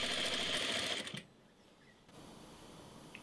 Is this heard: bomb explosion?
no